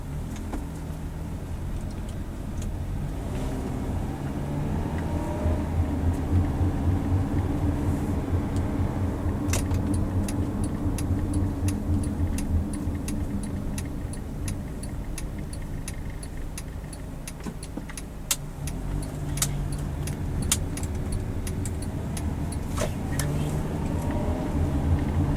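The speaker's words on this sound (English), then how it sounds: "Acceleration isn't bad, but shifts are a little jerky from that 5-speed auto." Steady engine and road drone from inside a 2007 Honda CR-V with a 5-speed automatic, driving and accelerating, a continuous low hum with light rattles and ticks throughout.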